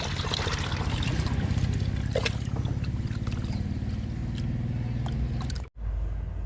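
Liquid fertilizer made from green grass pours steadily onto fruit plants in a home garden. The splash and trickle are close and continuous, then a brief pause and a softer trickle.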